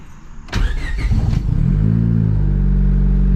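A built turbocharged single-cam Honda Civic running over 20 psi of boost cranks with a short whirring starter burst, then catches and settles into a loud, steady, throaty idle close by.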